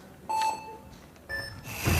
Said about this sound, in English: And now they look up and wait for the buzzers.